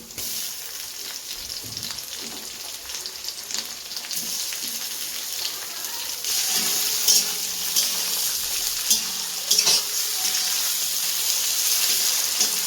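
Chopped tomatoes sizzling and frying with reddened onions in a pan while cooking duck meat, a steady close hiss that grows louder as they are added and stirred, with no talk.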